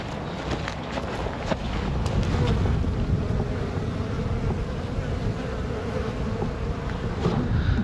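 A dense, continuous drone of many honey bees buzzing in flight around a hive in spring, steady and close, with some wind rumble against the microphone.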